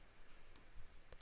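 Pen or pencil writing by hand on paper during a maths lesson on linear equations, faint scratchy strokes in short bursts, close and quiet with no talk.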